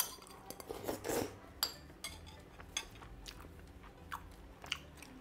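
Chewing and biting on braised pork trotter with mushrooms, tender and gelatinous-skinned, with soft close mouth sounds, a crunchy burst near the start and light cutlery clinks on a dish, no talking.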